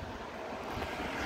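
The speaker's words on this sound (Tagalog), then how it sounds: "ang ganda ng sikat ng araw at ang lakas ng hangin." Very strong wind blows outdoors in Gallio, Italy, on a snowy day, a steady, close, roaring rush with gusty buffeting against the microphone and no voices.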